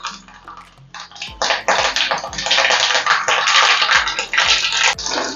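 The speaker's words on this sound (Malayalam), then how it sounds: "എണ്ണ ചൂടായിട്ടുണ്ട്. നമുക്ക് 1 ടീസ്പൂൺ കടുക് അങ്ങോട്ടിടാം." A teaspoon of mustard seeds hits hot coconut oil in a pan for an onion yogurt curry, setting off a loud, continuous sizzle studded with sharp pops and crackles that builds after the first second.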